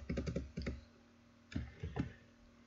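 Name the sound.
computer keyboard typing WuBi code keys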